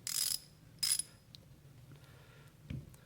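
A 3/8 ratchet with its selector set to loosen gives two brief bursts of clicking, then a few faint ticks and a soft knock in a quiet room.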